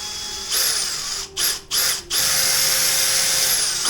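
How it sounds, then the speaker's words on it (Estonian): A power drill whirs loudly up close while installing a controller on a Husqvarna E5.5, running steadily with two brief stops and restarts early on, then holding a continuous high whine. "No puuri."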